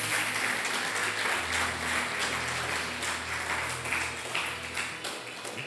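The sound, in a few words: congregation applause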